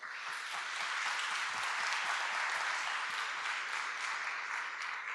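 Audience applause at the Oxford Blockchain Conference closing ceremony, dense sustained clapping from a crowd that swells and holds steady, fairly loud and continuous with no talk.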